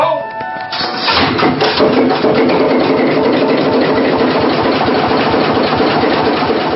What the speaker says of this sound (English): our crew are able to raise the ship's massive anchor and get the engine started